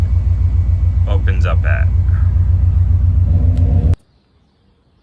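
A race car engine idles while warming up, giving a deep, steady, throbbing rumble. Someone talks briefly over it, and then the engine noise cuts off abruptly near the end.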